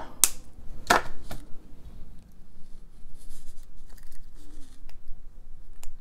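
A few quick, crisp snips cut a jewelry necklace chain to length, two sharp clicks close together near the start, then light handling noises and faint rustling.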